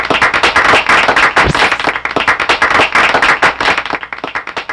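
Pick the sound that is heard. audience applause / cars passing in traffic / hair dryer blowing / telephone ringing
audience applause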